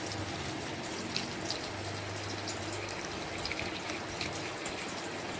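Water is poured into ground ginger, cumin and chili paste, a steady soft splashing trickle heard close and alone for several seconds.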